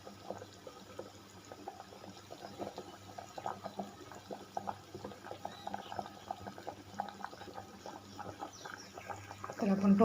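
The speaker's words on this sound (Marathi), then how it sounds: "उकळी फुटत आहे, गरम असल्यामुळे पाणी लगेच उकळी फुटलेली आहे।" Water comes to a rolling boil in a pot of mutton curry on a hot stove, with close bubbling, popping and gurgling that grows louder toward the end, while someone talks over it.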